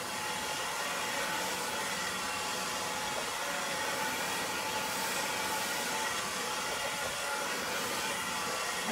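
A hair dryer blows steadily while drying long layered hair, a loud continuous airy roar at even level throughout with no voices.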